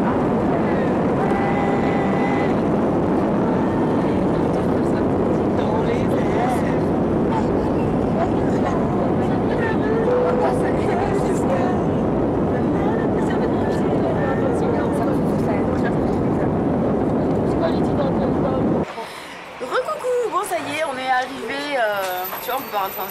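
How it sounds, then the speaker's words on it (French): An airliner taking off from Montpellier airport, heard from inside the cabin as a loud, steady, broadband engine roar that cuts off abruptly near the end, leaving quieter rustling. "Après 1h30 d'attente, on décolle en fait."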